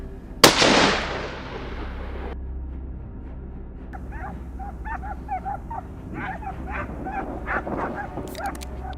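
Hunting dogs chase wild boars on California farmland. A sharp loud bang comes first, then a fading rumble, followed by a string of excited yips, whimpers and barks at moderate distance.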